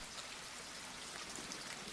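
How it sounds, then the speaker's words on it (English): Steady, soft rain falls continuously, a dense even patter of drops on surfaces with no other sounds, heard in a bedtime story setting. "The rain has slowed even more now."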